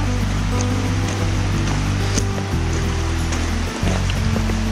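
A small river runs beside a forest trail near the Novo Mundo waterfall in Urubici, Santa Catarina, giving a steady, close rushing of water that continues without pause.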